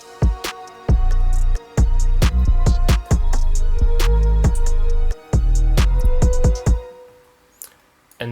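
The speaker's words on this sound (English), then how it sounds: "We also have this other delayed drop here" Delayed drop in a psychedelic cinematic trap beat: booming bass hits and sharp percussive clicks cut out and return in bursts, then the beat thins to a sparse, echoing tail before one last hit.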